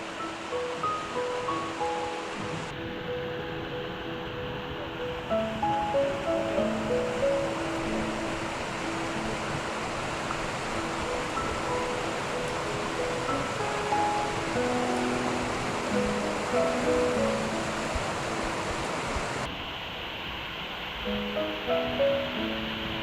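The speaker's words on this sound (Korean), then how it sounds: "계곡 물소리가 좋은데 고프로 특성상 사운드가 별로다" Mountain valley stream on a Seoraksan autumn descent, a continuous rushing hiss of flowing water heard close up and steady, with music playing over it for most of the stretch.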